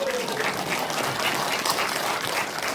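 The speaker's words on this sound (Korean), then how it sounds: "박수 한번 크게 쳐주시죠." Loud, dense, sustained applause from a crowd at a regional merger briefing session in Suncheon, continuous clapping filling the room with no voices over it.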